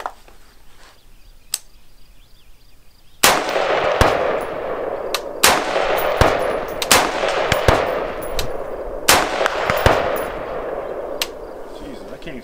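Rifle fired with a red dot and backup iron sight at an outdoor shooting range, a quiet start followed by a string of sharp, loud shots at uneven intervals with echoing tails.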